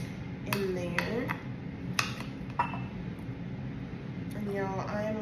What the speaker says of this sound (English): So I've got my bowl here and I'm just going to scoop a little bit in there.